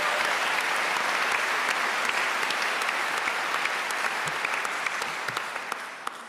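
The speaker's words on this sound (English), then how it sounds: "Yes, you can clap for the symphony and the chef." A concert hall audience at the Van Cliburn International Piano Competition final concerto claps for the symphony orchestra and conductor Carlos Miguel Prieto: sustained, full applause with a few sharp individual claps standing out, tapering toward the end.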